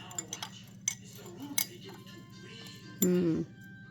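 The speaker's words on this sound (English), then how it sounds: "Maybe I'll stir it around a little bit and see what happens." A tablespoon clinks against a glass of Concord grape wine as it is stirred, with a few light taps and one brief louder ringing clink, while a person talks over it.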